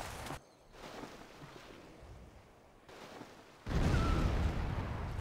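Artillery shelling in the Civilization V World War II Pacific mod, coming from Hong Kong: a sharp blast opens, a quieter rumbling stretch follows, then a loud, sustained barrage of booming impacts fills the end.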